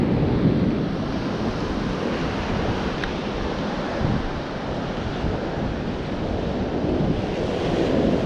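Ocean waves wash steadily onto a black sand beach, a continuous close roar of surf with wind buffeting the microphone throughout and no voices.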